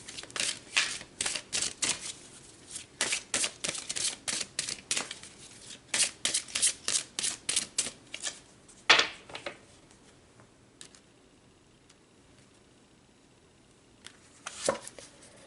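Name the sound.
shuffling and pulling cards for a tarot reading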